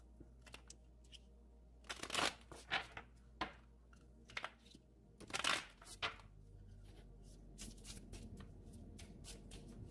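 Oracle cards being shuffled by hand, with quiet crisp riffles and a few louder bursts of card flicking at close range, no talking over them.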